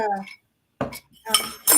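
Ice cubes clink and rattle in a glass for a Deep Eddy vodka Moscow Mule, three sharp bright bursts close up, following a short bit of speech.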